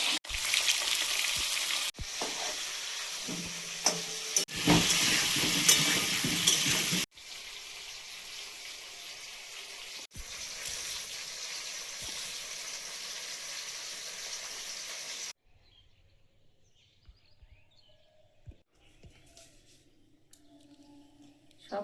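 Potatoes fry in hot oil in a pan over a gas flame, giving a loud, dense sizzle for several seconds that drops to a steadier, quieter crackle and then fades almost to silence.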